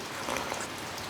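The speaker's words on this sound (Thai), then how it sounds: "วันนี้ฝนตกเนาะฟังเสียงฝนไปด้วยนะคะ" Rain falls steadily outside a house front, a soft continuous patter of drops that stays even and close throughout the short stretch, with no voices.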